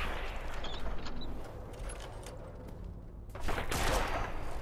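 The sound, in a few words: gunshot headshot in Fallout video game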